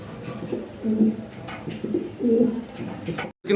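German Beauty Homer pigeons coo close by, several low, throaty rolling calls repeating at an uneven pace with brief gaps between them.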